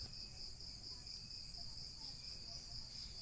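Quiet night forest ambience on Mt. Parawagan, Montalban, Rizal, dominated by a continuous chorus of crickets, with faint low background rumble and no talking.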